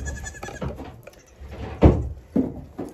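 Goats bleat from close by in short irregular calls with light shuffling between them, then louder, fuller bleats toward the end.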